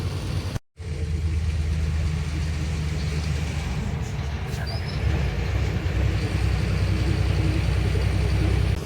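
A vehicle engine rumbles steadily while being driven on a road, a continuous low drone with road noise that drops out briefly near the start and then carries on unbroken.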